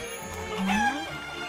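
A single chicken in the game Baldo: The Guardian Owls gives a short, close, rising cluck-squawk over soft, steady background game ambience.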